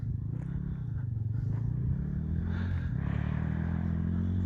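Stomp 160 pit bike with an exhaust coming loose at the manifold, idling close by with a steady low engine drone and faint irregular pops and crackles running through it.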